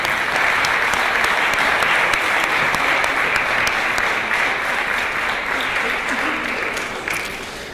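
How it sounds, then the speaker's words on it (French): An audience at a congress applauds steadily, a dense wash of clapping from many hands holding strong before easing slightly at the close. "Anwar Alaoui, que je vous demanderai d'applaudir"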